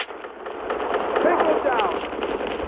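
Gunfire in the Call of Duty Mobile firing range, a dense burst of shots under a game announcer's voice, loud and close.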